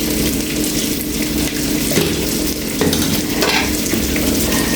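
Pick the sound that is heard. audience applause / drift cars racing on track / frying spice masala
frying spice masala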